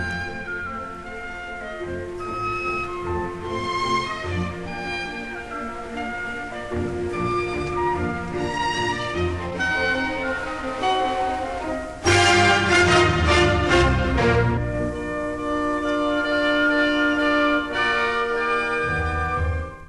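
An orchestra plays an excerpt from Beethoven's Eroica symphony with two transitions cut, sustained strings and winds swelling, then a sudden loud full-orchestra chord surge before settling, with no talking.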